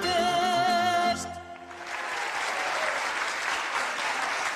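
An audience at a New Year's artists' concert in Pucioasa claps after a song, a dense, steady burst of applause that starts as the last sung note ends and carries on to the end.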